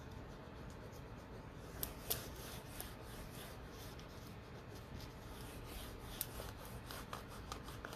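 Brush strokes of varnish over a paint transfer on a mirror, a faint, steady soft rubbing and swishing with occasional light taps, close up and without talking.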